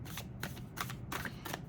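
A large deck of tarot cards is shuffled by hand up close, making four quiet, papery riffling bursts in a fairly even rhythm.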